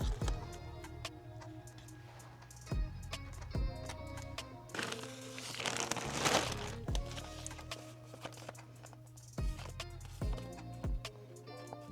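Several quiet snips of scissors cutting sticker paper for a planner, separated by pauses, with a longer rustling stretch of paper handling in the middle; close and soft.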